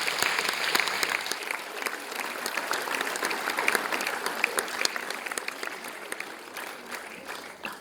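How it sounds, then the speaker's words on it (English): Audience applause at an awards ceremony for a girls' final, honoring volunteers: dense, steady clapping from a large crowd, sustained throughout at even loudness. "Another round of applause, ladies and gentlemen, for our volunteers."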